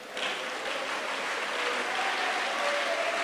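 A church congregation applauds during a worship talk on vocation, producing sustained, dense clapping from a large crowd that swells at the start and holds steady throughout.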